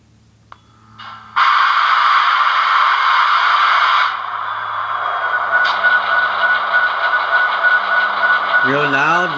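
An Athearn Genesis SD70ACE model locomotive on an NCE Power Cab starts up with a click, then a loud, steady diesel sound with hissing, settling to a continuous rumble before a warbling horn-like tone at the end.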